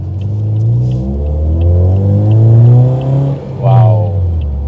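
A lowered Toyota Vios limo with restored suspension accelerates on a test drive, its engine revving up in long rising sweeps through the gears, loud and close from inside the cabin, with a brief lift before pulling again.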